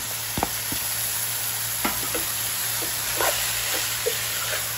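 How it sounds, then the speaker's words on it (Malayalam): Chicken curry masala with cut tomato stirred in a hot pan, toddy-shop style: constant sizzling hiss broken by several scraping stir strokes, close and fairly loud, with no talking. "ഇളക്കി കൊടുക്കാം"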